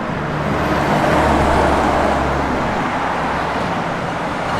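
Loud road traffic rushes past nearby in a steady, dense roar of engines and tire noise that swells slightly and holds for several seconds.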